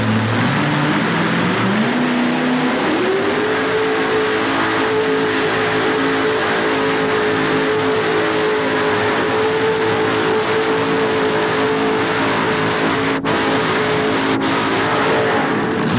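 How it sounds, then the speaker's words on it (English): A homemade modified pulling tractor with a 572 cubic inch Chevrolet engine at a 1988 Louisville tractor pull roars continuously and loud, revving up over the first seconds then holding a steady, heavy drone close by. "homemade tractor, 572 cubic inch Chevrolet motor on board as he gets ready to come on down right here"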